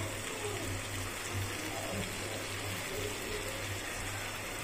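Hot water pours into a pan of potol and prawn curry with potatoes, a faint steady gushing wash with a low hum beneath it, continuous throughout.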